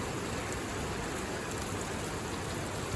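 Heavy rain pours down steadily near a heritage railway at Bo'ness and Kinneil, a dense continuous hiss of drops on surfaces, close and consistent, with no talking.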